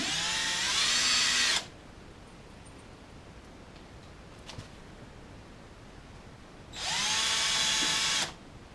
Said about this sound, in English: I'm just going to drive 3 screws in the wood to kind of snug it up against the metal